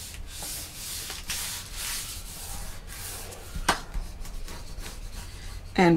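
A bone folder burnishing glued paper onto a scrapbook album cover gives steady dry rubbing strokes, close and fairly loud, with a few sharper scraping passes near the middle and end.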